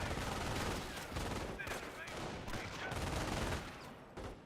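M42 gun fire in Company of Heroes 1 mixes with a steady clatter of rifle and machine-gun shots in a busy battlefield, loud and continuous, with a commentator's voice faintly underneath.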